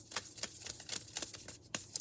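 Tarot guidance cards shuffled by hand in quick, uneven riffling bursts of crisp papery clicks, close and fairly quiet, with one sharper snap near the end.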